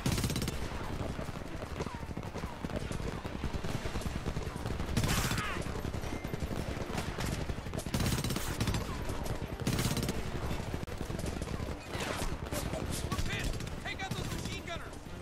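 Rapid bursts of enemy machine gun fire in the shooter game Homefront, a dense crackling rattle running almost nonstop at moderate distance, punctuated by louder volleys, with voices talking over it.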